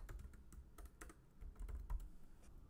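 Keys clatter in quick irregular bursts on a computer keyboard as a name is typed in all caps into Cricut design software, close and fairly quiet, with no voices.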